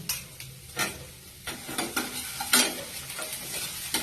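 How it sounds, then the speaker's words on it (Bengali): Chopped tomato stirred into browned fried onion in a kadai, a spatula scraping in quick rhythmic strokes over a soft sizzle, close by and without talk. "টমেটো কুচিটা দিয়ে নাড়তে থাকছি"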